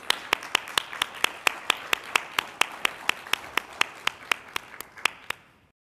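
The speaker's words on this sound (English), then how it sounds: "Ladies and gentlemen, let's give them a big round of applause." An audience at an on-stage event claps in a steady, evenly spaced rhythm: about eighteen sharp, close claps over several seconds that stop abruptly at the end.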